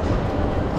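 A train rumbling through an airport-style train terminal in Rome, a steady low mechanical roar filling a brief moment.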